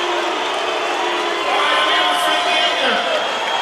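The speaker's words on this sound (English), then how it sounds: "this crowd is cheering for you" An arena crowd at a UFC championship fight cheering and roaring loudly, a continuous dense wall of voices that swells slightly midway.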